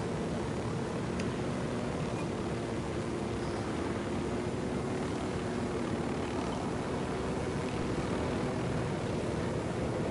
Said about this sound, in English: Is this the right way to fly a plane?